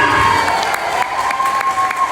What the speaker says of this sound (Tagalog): Palakpak mga Bisaya!